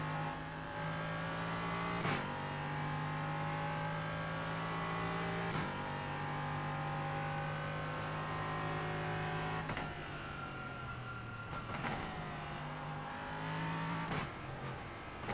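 Race car engine in iRacing accelerating out of the pits, a steady close whine climbing in pitch through several gears, each shift marked by a sharp break and a fresh rising pull.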